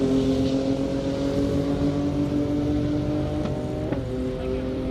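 A GTR drag car makes a fast pass on an airport airstrip at a 220+ MPH event, heard from a distance as a steady, droning engine tone. A brief rising whine passes near the end.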